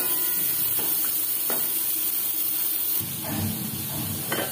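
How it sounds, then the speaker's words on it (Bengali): Pointed gourd (potol) fries in a pan over low to medium flame, giving a steady, close hiss and sizzle with a few soft knocks and stirring sounds breaking through. "লো টু মিডিয়াম ফ্লেমে 3-4 মিনিট পটল ভেজে নেব।"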